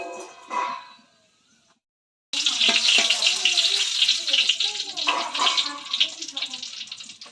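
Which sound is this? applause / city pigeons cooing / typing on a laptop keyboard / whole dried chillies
whole dried chillies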